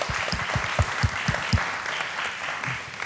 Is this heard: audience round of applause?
yes